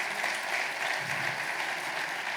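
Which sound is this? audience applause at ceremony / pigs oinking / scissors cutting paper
audience applause at ceremony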